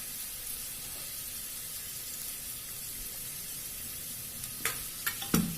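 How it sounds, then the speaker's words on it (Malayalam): Coconut pieces fry in a pan with a soft steady sizzle, close and even, broken near the end by a few sharp scraping stirs against the metal. "ഇത് നന്നായിട്ടൊന്ന് മൂപ്പിച്ചെടുക്കാം."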